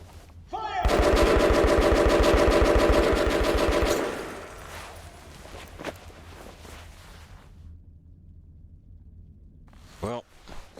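Rapid automatic gunfire from the Metro video game hammers out a loud, fast burst of shots for a few seconds, then fades into quieter scattered sounds and a final brief shot, with a voice speaking afterward.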